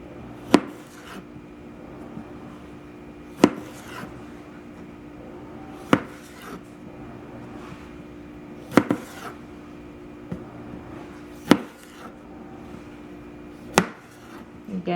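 A knife halving tomatoes on a cutting board in a home kitchen, six sharp, separate chops spaced a couple of seconds apart, close and fairly loud over a quiet background hum.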